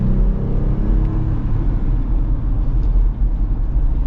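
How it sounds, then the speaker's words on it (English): A steady low rumble and hum from mud-terrain tires rolling on pavement fill the cabin of a modified 2025 Jeep Gladiator at cruising speed, loud and continuous with no talk. "you get a little bit more noise from the tires, a little bit more abrasiveness"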